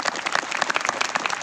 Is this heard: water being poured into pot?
no